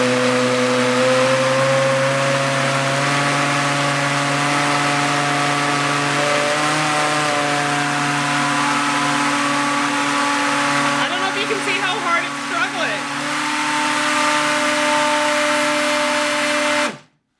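A loud, steady motorized whir of a blender churning a thick vegan mozzarella mixture, running continuously with a strained drone before cutting off abruptly at the end.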